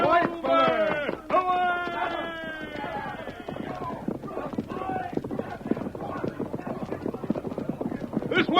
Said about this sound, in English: Get on your horse, Tonto